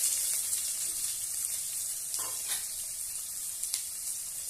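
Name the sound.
onions frying in oil in a pan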